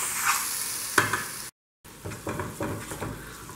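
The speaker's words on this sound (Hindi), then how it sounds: "और ये मैंने मसालों को अच्छे से मिक्स कर लिया है।" Spices stirred into frying tomato pickle in a pan: a close sizzle with a spoon scrape, a brief silent gap, then quicker rhythmic stirring strokes over the frying hiss.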